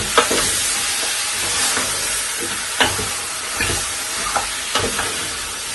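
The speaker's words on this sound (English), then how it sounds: "give it a stir" Steamed callaloo is stirred in a pot over a steady hiss and sizzle, with a spoon scraping and knocking in several distinct strokes spaced a second or so apart, close and fairly loud, no one talking.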